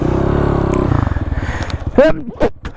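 A Honda Grom motorcycle labors uphill in second gear, its engine droning and then breaking into a choppy, lugging pulse, close by, with a person speaking over the end.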